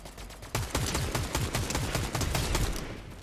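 Automatic turret in Fortnite fires a sustained rapid burst of gunshots, loud and close, a steady stream of shots lasting about three seconds.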